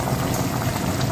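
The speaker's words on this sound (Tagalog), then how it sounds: "lagyan natin ng sauce sa ibabaw para magtalasa." Sauce going over tilapia fish cooking in a pan for pinangat, with a dense, steady bubbling and simmering hiss throughout, close and loud.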